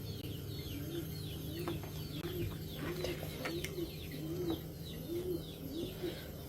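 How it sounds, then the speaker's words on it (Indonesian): Pigeons coo in a repeated rhythmic pattern, evenly spaced and moderately near, over a steady outdoor background hum with other faint bird chirps and scattered clicks. "Burung itu, merpati."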